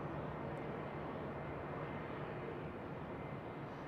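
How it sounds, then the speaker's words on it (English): A Boeing 767 on a test flight, on short final approach into Houston's George Bush Intercontinental Airport; a faint, steady, distant jet roar with broadband wash and no voices. "Here's your 767 test flight on finals. Short finals."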